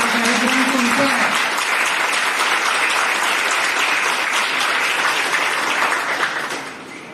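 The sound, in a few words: audience clapping at school celebration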